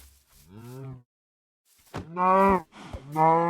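Cows moo in Minecraft: a short, softer low moo comes first, then after a gap two louder, longer moos follow close together, clear with no talk.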